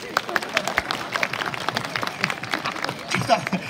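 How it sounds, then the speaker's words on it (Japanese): A live audience claps at a Japanese stage show where a comedian impersonates and dances to DA PUMP's U.S.A. The dense, busy clapping runs throughout, mixed with crowd voices and chatter. "拍手お願いします。"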